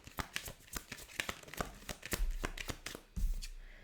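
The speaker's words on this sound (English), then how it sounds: "Let's pull you some romance cards" Tarot cards being pulled and shuffled by hand, a quick run of close, crisp riffling flicks and soft slaps at an uneven rhythm, with a couple of duller thumps near the end.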